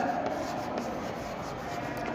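Steady scratching of writing on a board while factors are worked out in a maths class. The strokes are continuous and close, with no talk over them.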